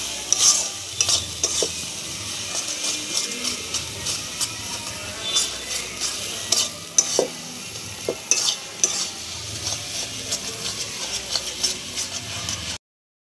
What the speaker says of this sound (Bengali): দিয়ে যে মশলাটা কষাচ্ছি, তারপর দেবো এখানে চিকেনটা।